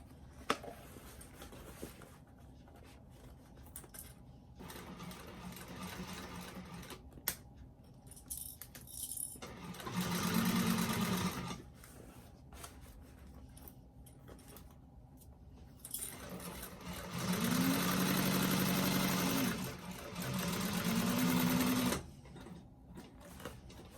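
A sewing machine stitches bag seams in short bursts, three main runs of rapid mechanical whirring separated by quieter pauses with small clicks and handling noises, fairly close and with no talk.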